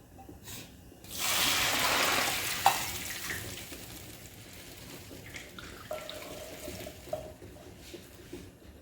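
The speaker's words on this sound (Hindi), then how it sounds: "ये मेजरिंग कप से मैं 2 कप इसमें पानी डालूंगी।" Two cups of water pour from a measuring cup into a cooking pan of toasted cumin, a loud rushing splash for about two seconds that fades into quiet sizzling and faint clinks.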